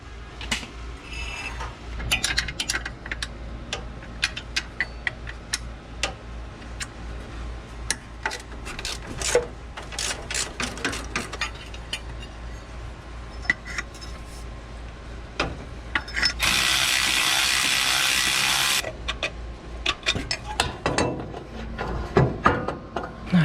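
Wrench and metal clatter while pulling the smog pump bolts off a 1978 Ford F100: scraping, ratcheting and clanking at close range, and a brief steady rushing burst partway through.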